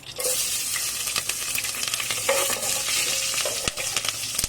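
Green chillies sizzle and crackle as they fry in hot oil in a pan for a mango capsicum masala curry, a close, continuous hiss with occasional stirring scrapes.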